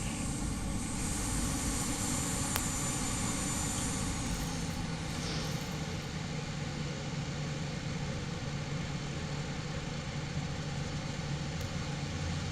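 Airplane taxiing in the Infinite Flight simulator at Durban, a steady loud engine drone and idle hum that runs unbroken throughout with a faint change in tone partway, no voices.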